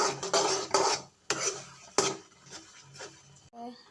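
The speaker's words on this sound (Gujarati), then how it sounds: "થોડીક વાર ગેસ ઉપર આપણે આવી રીતે હલાવતા રહીશું" A spoon stirs puran filling of jaggery and boiled toor dal in a pan on a gas stove, producing scraping and clinking strokes in irregular bursts, close and fairly loud, with brief pauses between.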